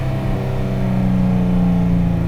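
A boosted Nissan NISMO launches from first gear, its engine revving loud and steady with a rising whine, close by and without talk.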